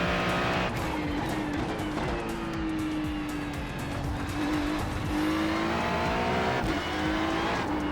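A race car's engine drones steadily at high revs in a sim racing game played on a Moza R12 wheel, with a sustained tone that shifts with gear changes and faint tire squeal, loud and continuous with no talking.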